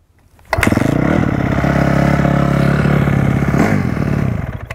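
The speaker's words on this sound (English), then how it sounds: "give it three blips like this. One, two, three with the gas, kickstarter out, and that will usually just start right up" A four-stroke carbureted motorcycle engine kick-started after three throttle blips catches almost at once and settles into a loud, steady, close idle with mechanical clatter, a brief rev change near the end.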